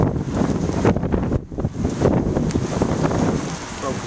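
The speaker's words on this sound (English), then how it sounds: "The wind starting to, or the rain starting to pick up." Wind gusts through an incoming afternoon rainstorm near palm trees, buffeting the microphone in loud, rough surges with a brief lull midway, while a person talks over it.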